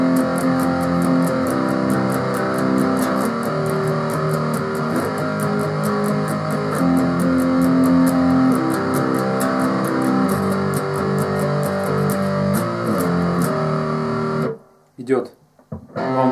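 A distorted electric guitar plays the bridge of a song, sustaining heavy chords for about fourteen seconds before cutting off into a few brief scrapes and near silence.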